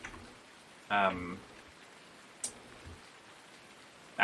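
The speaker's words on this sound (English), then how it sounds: "So it's a rainy day." Rain falls steadily in Farming Simulator 19 on the Giants Island map, a soft, constant hiss at low volume broken by a brief tonal chime and a short click.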